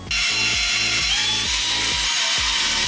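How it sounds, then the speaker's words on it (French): A power drill with a very fine bit bores a hole in a jar lid, giving a high whining tone. About six rhythmic grinding pulses repeat roughly every half second, close and loud, with no voices. "J'utilise dans un premier temps une mèche en fait qui est très fine pour venir percer"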